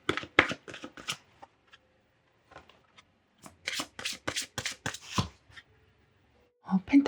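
Oracle cards are shuffled in quick, crisp riffling bursts, loud and close, with pauses between rounds of shuffling and a soft voice speaking near the end.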